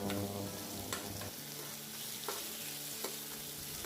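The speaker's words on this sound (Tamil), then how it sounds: "தக்காளியை கொஞ்சமாக நல்லா வதக்கிக்கலாம்." Tomato and curry leaves sauté in a pan with a dense, close frying sizzle and a few sharp stirring knocks spaced through a short stretch, with no voice present.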